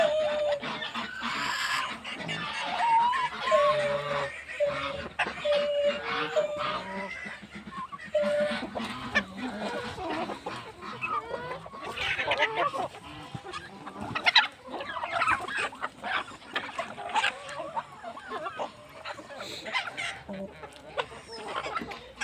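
Backyard chickens, including a bantam hen, cluck steadily at close range during feeding, with repeated short calls and some louder squawks over rustling and movement across the whole stretch.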